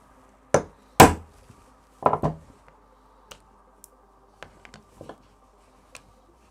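Hammer taps while assembling parts of a VORON v0.1 3D printer bed and extruder, a few loud sharp knocks early followed by scattered lighter ticks and clicks, close and alone.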